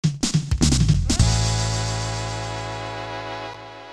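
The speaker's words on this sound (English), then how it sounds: "I really do enjoy the sound effect that happens at the end of each level." A short bright chiptune jingle marks the end of a level in the Super Adventure Island video game: a quick run of rising notes, then one sustained chord that slowly fades out, loud and alone.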